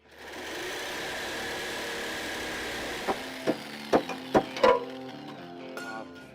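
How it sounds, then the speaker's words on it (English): A cutting tool whines steadily through steel radiator support brackets on a 2003 F150 body-swap truck, then gives a series of sharp bangs and clunks as the pieces come free near the end. "So I'm gonna go ahead and cut them out right quick, get them out the way."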